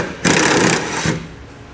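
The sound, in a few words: impact gun removing a bolt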